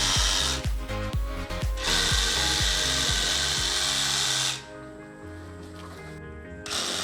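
A Ryobi one-handed reciprocating saw cuts through tree branches with a loud, close, buzzing motor whine and rhythmic sawing strokes, then winds down to a lower idle before revving again.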